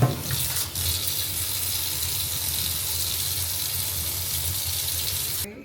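Tap water runs steadily and loudly as a wig is rinsed beneath it, a continuous splashing hiss that stops abruptly at the end, with no voices.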